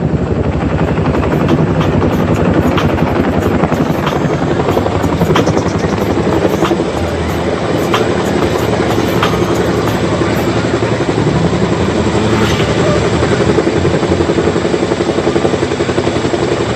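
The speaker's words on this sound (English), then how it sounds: "This is fondly known as the Namaste maneuver, with both Chinooks holding the position in the form of bowing down to the audience." Two Chinook helicopters hover side by side at an Indian Air Force air show rehearsal in Bhopal, their rotors making a loud, continuous, rhythmic chop over a steady engine whine that holds close and unbroken throughout.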